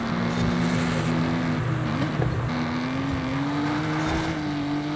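Racing-game car engine in Forza Horizon, a steady loud drone with a held pitch that dips briefly and then climbs again, running continuously under a constant wash of background noise.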